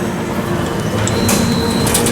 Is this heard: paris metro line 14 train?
yes